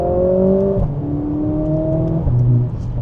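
A Mercedes-AMG A45 S hot hatch engine drones with a steady, nasal buzz inside the cabin, its pitch stepping up and dropping through gear changes for three seconds without any talk.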